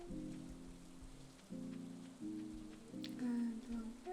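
Steady rain in the farming game Stardew Valley, a soft continuous patter beneath tonal game music, with no talk over it.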